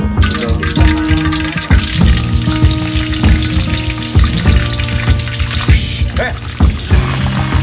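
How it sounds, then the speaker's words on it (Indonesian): Grasshoppers with spice paste cook in a pot and sizzle loudly and steadily, with repeated scraping and stirring knocks throughout and no voices. "Nah, udah jadi bumbu kayak gini, barulah dimasukin ke panci."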